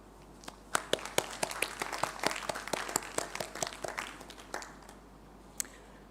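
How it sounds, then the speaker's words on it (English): Sparse applause at the RGU 2021 convocation, individual distinct claps building quickly into a scattered patter, then thinning out to a few last claps. "Please again join me in a round of applause for those that have supported you."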